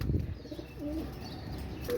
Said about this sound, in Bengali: একজোড়া সাকিরেডি কবুতর